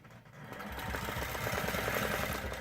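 A longarm quilting machine stitches in the ditch of a quilt block, giving a steady fast mechanical whir with a rapid needle rhythm, close and continuous.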